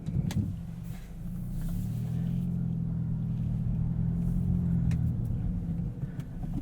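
A 2022 Hyundai Elantra N with a manual gearbox cruising in normal drive mode, a steady low engine hum and road rumble heard from inside the cabin, holding an even drone with slight swells and no talking.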